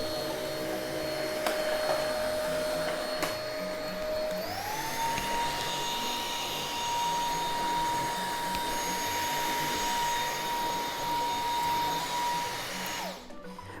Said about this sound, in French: Je vais vous montrer rapidement comment l'aspirateur est capable de s'adapter automatiquement au type de surface